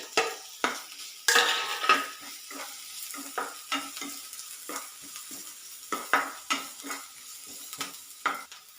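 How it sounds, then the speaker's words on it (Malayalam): Green chilli, ginger and garlic fry with onions in a pan, giving a constant sizzle under frequent scraping stirs and light clinks of a spoon on metal, close and without speech. "ഇനി ഇതിലേക്ക് പച്ചമുളകും ഇഞ്ചിയും വെളുത്തുള്ളിയില്ലേ,"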